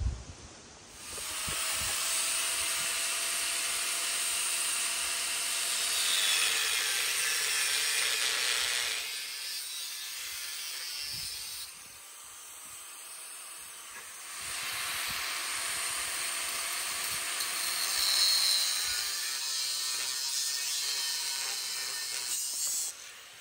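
Metal pieces being cut out for a Toyota Sequoia tire swingout, loud harsh hissing grinding in two long bursts separated by a brief quieter pause, close and steady with no talk.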